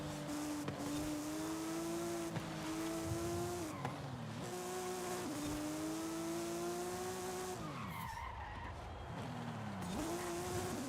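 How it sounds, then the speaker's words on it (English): Racing video game car engine drones loudly, its pitch rising and falling through gear changes while tires squeal as the brakes lock up under braking, a steady, continuous, close mix with no talking. "They're just barely locking up on me."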